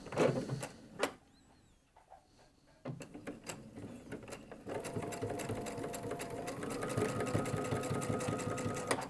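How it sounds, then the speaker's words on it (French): A sewing machine stitches fabric seams for a jelly roll rug at a normal 2.5 stitch length, a steady close mechanical whirr in short runs with brief pauses between bursts, growing longer and steadier toward the end. "je vais prendre quelques points"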